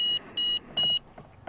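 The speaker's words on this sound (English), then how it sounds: "the function button on this is going to beep the collar" A Dogtra Pathfinder 2 dog training collar gives three steady electronic beeps, the last one longest, evenly spaced and fairly close, with faint handling sounds in between.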